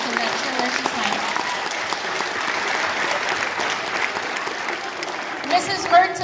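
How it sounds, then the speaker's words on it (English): Audience at a school concert applauding, a sustained crowd of clapping heard throughout, with a voice speaking over it near the end. "give her a round of applause"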